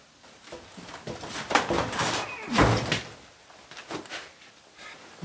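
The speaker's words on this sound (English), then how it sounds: "This handle isn't made for ripping the door open." A door is wrenched open by its handle, giving a series of scraping rattles and one heavy thump midway, fairly close with no talking.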